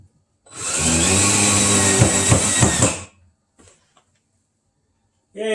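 A power drill drives screws into a water filter mounting, whirring steadily for a few seconds with some uneven loading bumps, then cuts off, leaving faint clicks and a brief burst at the end.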